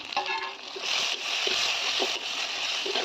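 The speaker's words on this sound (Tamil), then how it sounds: "3 தக்காளியை நம்ம கட் பண்ணி சேர்த்துக்கலாம்." Chopped tomatoes go into a hot frying pan, giving a steady hiss and sizzle with small splattering bursts, close and fairly loud, no voices.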